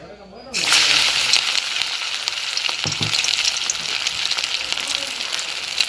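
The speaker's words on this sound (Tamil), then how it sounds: "எண்ணெய் கொதிச்சிட்டு நாங்கள் அந்த வடையை போடுவோம்" Prawn vadai dropped into hot oil set off a sudden loud, steady sizzle that crackles on continuously, with voices talking faintly underneath.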